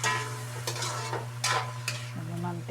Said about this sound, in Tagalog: Haluin po natin.